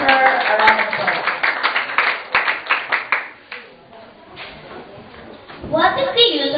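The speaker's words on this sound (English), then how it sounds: "Let's give her a round of applause" Scattered audience clapping for a school debate speaker, with individual claps standing out over a few seconds before fading, then voices rise as someone begins talking nearby.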